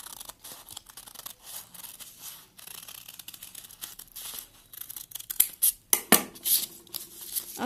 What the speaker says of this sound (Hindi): अब पहले अंदर वाला हिस्सा काट देंगे।